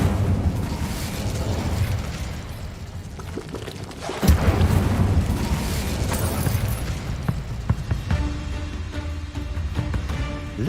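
Incendio fire spell cast in the video game Hogwarts Legacy, a sharp burst followed by a sustained roaring, crackling whoosh of flames amid ongoing game effects and scattered crackles, with no talk.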